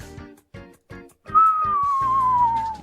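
A person whistles a single sustained, slowly falling tone that follows a few short, percussive game sounds, coming through loud and close with no talking over it.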